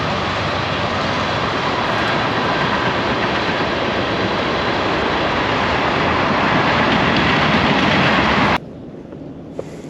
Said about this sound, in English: I think we're about to see a train go by